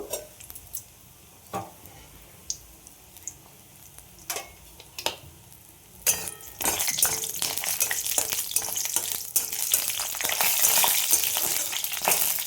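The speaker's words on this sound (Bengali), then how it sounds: "আমি 5 ফোড়ন দিয়ে দিলাম সর্ষের তেলের মধ্যে। একটু বড়ি ভেজে নেব।" Bori lentil dumplings frying with five-spice panch phoron in mustard oil for a spinach chorchori, starting with sparse taps and clinks, then a loud, dense crackling sizzle that swells and holds close.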